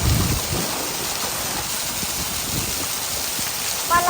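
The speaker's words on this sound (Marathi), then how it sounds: "कशी पाऊस पडली बघा" Rain falling outside a rural home, a steady diffuse hiss of drops on surfaces throughout, with faint knocks and a brief tonal sound at the very end.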